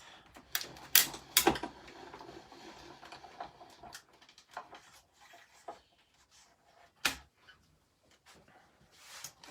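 Scissors snip through vellum paper while cutting out a small bubble shape in a paper craft, giving a few sharp close cuts and rustles followed by sparser clicks and paper handling, with no talking.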